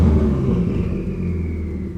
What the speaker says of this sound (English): just fucking turbo noise, bro.